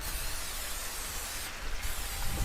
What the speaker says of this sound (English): I'm just going to use some spray olive oil